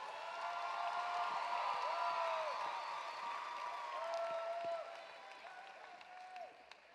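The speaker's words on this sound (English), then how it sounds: "Let's give all the candidates for Illinois FFA State Treasurer one more round of applause as they exit the stage" A large convention crowd at the Illinois FFA State Convention applauds the state treasurer candidates. Loud sustained clapping is threaded with whoops and cheers, then tapers off near the end.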